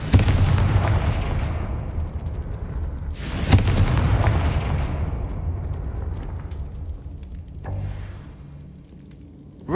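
Fiery Confringo blast spells in Hogwarts Legacy, with loud booming bursts near the start, around the third second and again near the end, over a dense, rumbling battle din with no talk.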